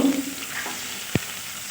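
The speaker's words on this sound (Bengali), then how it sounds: "পেঁয়াজটা একটু ভেজে নেব" Steady, soft sizzle of frying with a brief tap partway through; no voices.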